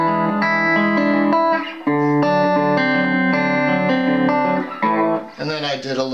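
Electric guitar plays a rockabilly Travis-picking pattern with a little turnaround, a steady alternating bass under bright plucked chords, slightly distorted with effects, continuous and close for about six seconds.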